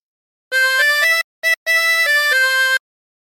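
Harmonica playing a phrase of the Battle Hymn of the Republic, with clear sustained reedy notes in a short sequence, briefly broken by a quick separate note, close and loud.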